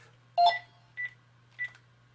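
A mobile phone emits three electronic dialing-tone beeps, the first louder and longer, the next two shorter, spaced about half a second apart over a faint steady hum.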